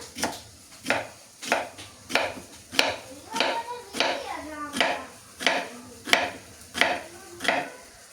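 A knife slices a peeled raw banana into round pieces on a board, about a dozen crisp chops landing in a steady even rhythm, close and clear with a faint voice underneath.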